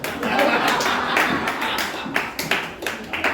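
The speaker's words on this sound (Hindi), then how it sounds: "आपकी भी हंसी और ताली बहुत कमजोर है" An audience at a charity organisation's meeting gives a thin, steady patter of scattered clapping mixed with crowd murmur, moderately loud and lasting a few seconds.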